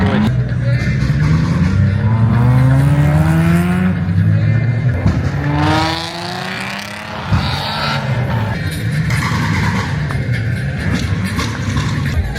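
Cars rolling past at a Japanese car parade, including a Mazda MX-5 and Honda NSX, with loud engine drones rising and falling as vehicles pass and rev nearby, and people talking underneath.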